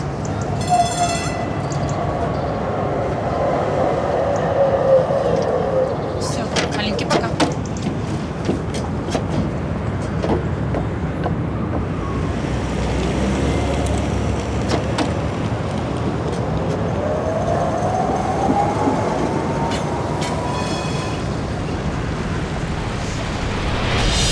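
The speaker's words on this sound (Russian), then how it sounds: "О, трамвай идет." A tram rumbles steadily past on a city street for the whole stretch, loud and close, with a brief horn-like tone and metallic clatter partway through.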